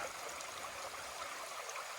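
A river stream rushes and burbles steadily near Stoney Ledge on Mt Greylock, a constant close wash of flowing water with no voices.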